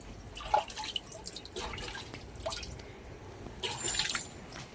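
Tap water running into a container, soft close drips and trickling splashes with a few brighter plinks, fairly quiet and with no speech.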